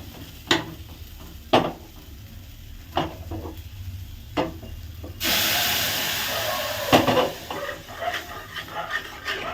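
Spices for tempering hit hot oil and burst into a loud, steady sizzle partway through, after several sharp clinks and knocks of kitchen utensils.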